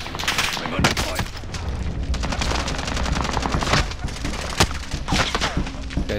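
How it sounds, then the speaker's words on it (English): Dense, close gunfire in Call of Duty: Modern Warfare, with rapid automatic bursts and sharp single cracks overlapping continuously and heavy thuds mixed in, while players talk over the shooting. "I'm under fire."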